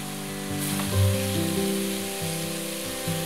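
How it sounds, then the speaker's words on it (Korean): Cinnamon, star anise, cloves and cardamom fry in hot oil for Indonesian beef rendang. A steady close sizzle runs throughout, with occasional stirring sounds and no voices. "계피, 팔각, 정향, 카다멈을 넣고 5분 정도 더 볶는다."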